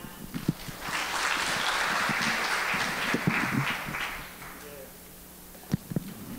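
An audience at a regulatory sandbox policy seminar gives a burst of dense applause that lasts several seconds and then fades out, followed by a few scattered knocks.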